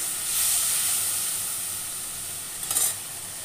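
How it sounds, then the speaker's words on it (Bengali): Spice paste fries in oil in a wok for a light fish curry with potato and brinjal, a continuous bright sizzle and hiss that swells, eases off, then flares in a short burst of spitting near the end. "মশলাটা যতক্ষণ ভাজা না হয়ে তেল না বেরোবে, ততক্ষণ মশলাটা কষাতে থাকবে"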